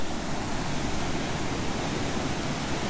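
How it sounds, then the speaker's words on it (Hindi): Water rushes out from under the gates of an irrigation canal with a dense, steady roar like a waterfall, loud and unbroken, with no voices. "यहाँ से नीचे से पानी निकल रहा है और इस तरफ जा रहा है।"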